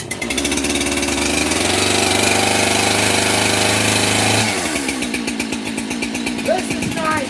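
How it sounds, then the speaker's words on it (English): Stock chainsaw engine running at high idle, a loud steady buzzing drone that drops to a rougher, lower putter partway through, close to the microphone with no talk over it. "We should be on high idle."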